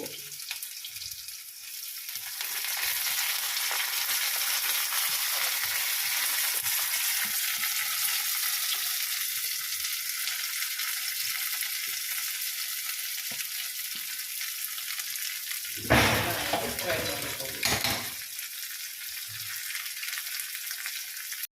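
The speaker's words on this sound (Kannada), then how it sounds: "ಫಸ್ಟು ಸಾಸಿವೆ ಹಾಕ್ಕೋಬೇಕು ಆಮೇಲೆ ಒಣ ಒಣಮೆಣಸಿಕಾಯಿ ಆಮೇಲೆ ಈರುಳ್ಳಿ ಕರಿಬೇವು" Mustard seeds, dry chili, onion and curry leaves frying in hot oil, a steady loud sizzle heard close up, with a brief burst of crackling near the end.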